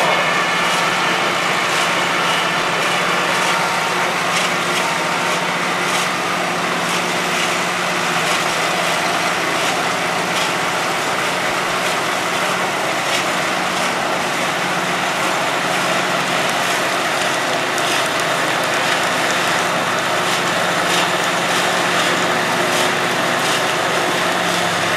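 Steady tractor engine running through a village festival parade in Zschorlau, a continuous mid-distance motor drone with broadband crowd-like noise and no clear speech.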